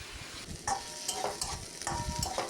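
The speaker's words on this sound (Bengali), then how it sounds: "দেখো প্রায় ভাজা ভাজা হয়ে এসেছে আলু বেগুন।" Potato and eggplant chunks fry in a hot pan with oil, browning lightly: a steady, close sizzle broken by repeated scraping stirs and clattering turns of the spoon.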